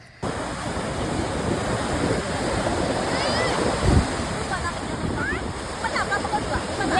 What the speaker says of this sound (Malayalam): നല്ല തിരയായിരുന്നു കേട്ടോ നല്ല കട്ടിയിലായിരുന്നു കനത്തിലായിരുന്നു തിരയൊക്കെ വന്നിരുന്നത്